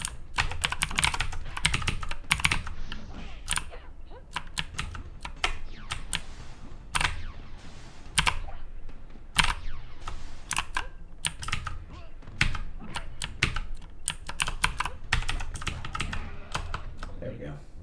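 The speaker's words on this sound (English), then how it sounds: "I'm also playing on keyboard, so with Melina." Rapid, uneven computer keyboard typing and key clatter while playing UMK3, bursts of sharp clicks throughout, close and fairly loud, with occasional talk mixed in.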